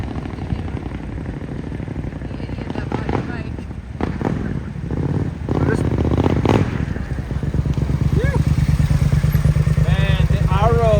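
Triumph Scrambler 900 motorcycle engine running nearby, a steady throbbing rumble that grows slightly louder midway, with people talking over it throughout.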